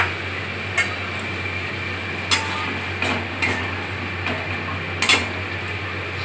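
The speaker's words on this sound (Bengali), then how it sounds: "এবার আমি একটুখানি টমেটো দিয়ে এটাকে আমি কষাবো" Spatula scraping and clinking against a cooking pan as masala with tomato is stirred, a few sharp metallic knocks spread over a steady low background hum, no voices.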